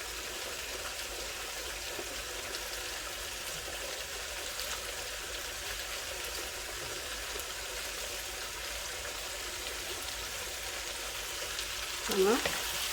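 Bell pepper and garlic frying in a pan, a soft continuous sizzle that stays faint and even, with a brief louder stir near the end and no clear talking.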